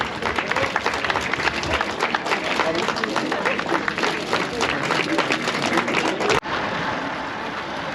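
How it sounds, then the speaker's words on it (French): Triathlon audience applauding finishers, a dense burst of clapping lasting several seconds before it abruptly fades into quieter background noise. "On les applaudit bien fort,"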